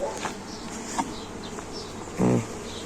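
Honeybees from a wandering swarm, the season's third, buzz around a Dadant beehive as they settle in, a soft steady hum with brief louder passes of individual bees close by.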